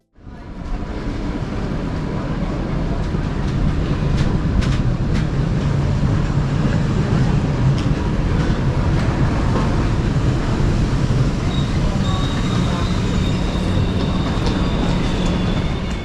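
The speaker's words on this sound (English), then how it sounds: "here we can see the arrival of my train at the main station of Rostock" An ICE train rolls into Rostock main station with a steady, loud rumble and wind roar that holds throughout, a faint high squeal of brakes appearing toward the end.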